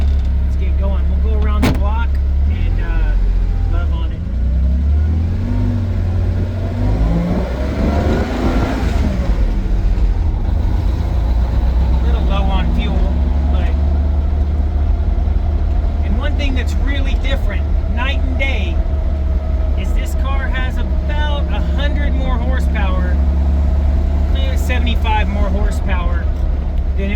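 A 1970 Porsche 911T fitted with a 1978 3-liter engine driving, a steady low engine rumble throughout with revs rising and falling, while people talk over it.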